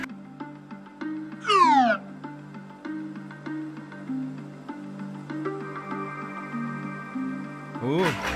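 Female cat meowing: a single rising and falling meow early on, then a softer mew at the end, over quiet indoor background hum with faint clicks.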